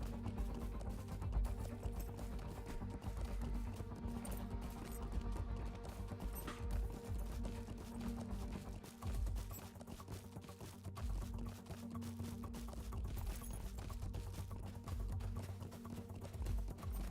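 A horse gallops in a video game with steady, rhythmic clip-clop hoofbeats that run continuously at moderate loudness for the whole stretch, with no voices.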